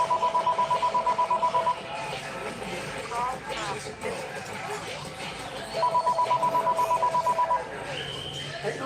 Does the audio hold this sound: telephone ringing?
yes